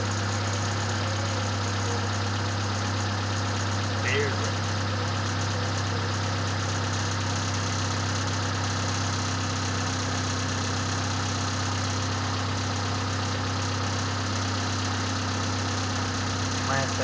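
A 1993 Honda Civic engine idles steadily after its first start in two years, a constant low hum and vibration that holds throughout with light background noise.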